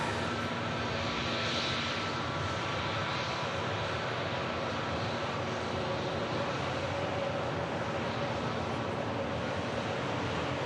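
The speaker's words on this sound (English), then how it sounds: "The other Emerald Airlines operated ATR for Dublin on the taxi" An Emerald Airlines ATR turboprop taxis at Manchester Airport, its engines producing a steady, broad, continuous roar at moderate distance that stays level throughout with no other distinct sounds.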